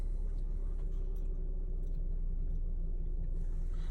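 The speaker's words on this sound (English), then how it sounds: "I'll start the car up." A car engine idles with a steady low rumble throughout, fairly quiet and even, with no voices over it.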